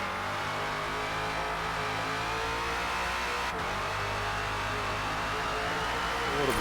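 A Ford Falcon FG X race car engine in Forza Motorsport at the Indy GP circuit, droning loudly and steadily as it pulls through the gears, rising slightly in pitch toward the end, with no voices.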